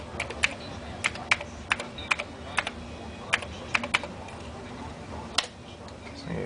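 Keys clatter on a Commodore 64 keyboard as an address is typed in, a quick irregular string of light clicks close by over a faint hum.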